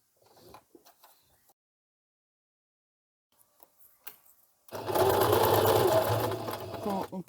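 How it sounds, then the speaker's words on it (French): A sewing machine stitches a small shoulder bag in a loud, fast whirring run after a few quiet handling clicks and brief soft voice sounds. "Et on vient coudre à 1 cm du bord."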